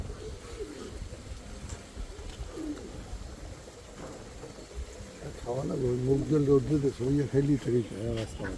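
Low, throaty cooing from prize-winning racing pigeons in a loft rises in repeated pulsing phrases partway through, following a stretch of quieter background noise.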